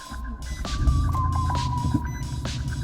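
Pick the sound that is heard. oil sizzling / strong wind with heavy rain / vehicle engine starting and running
vehicle engine starting and running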